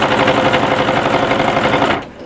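A sewing machine stitches quilt binding in a steady, fast mechanical whir with a rapid needle chatter. It is loud and close, then stops abruptly near the end.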